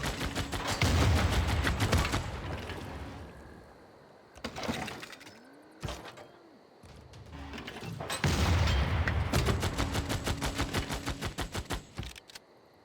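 Units firing in Civilization VI, rapid volleys of gunfire crackling in dense bursts, loud and near, with a brief lull and short shots in the middle before another long barrage.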